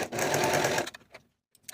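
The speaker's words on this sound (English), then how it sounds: "Then I'll sew those back sleeve seams with the 1/4 inch seam allowance." Sewing machine stitching the back sleeve seams of a raglan top at a quarter-inch seam allowance, a steady close whirring run that stops abruptly, followed by a few faint clicks.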